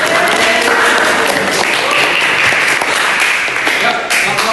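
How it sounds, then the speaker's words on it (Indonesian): A classroom of students applauds for the first group presenting in a practice lesson, dense continuous clapping with some voices mixed in throughout. "tepuk tangan dulu."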